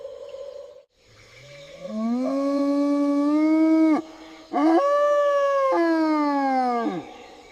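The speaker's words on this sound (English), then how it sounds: "A mantled howler monkey roars." A mantled howler monkey roars in long, deep, droning calls, two sustained bellows broken by a brief pause, loud and close with no other sounds.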